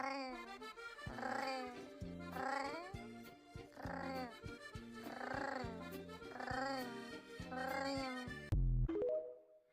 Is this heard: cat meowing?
yes